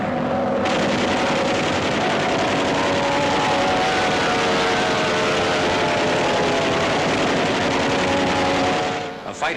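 A Focke-Wulf 190 fighter mounted pick-a-back on a Junkers 88 bomber drones in flight, a dense, loud, continuous engine roar with a steady hum that fades abruptly at the end, with no voices over it.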